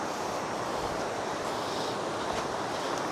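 A large river rushes with a dense, continuous broadband roar, steady and fairly close, with no talking heard over it.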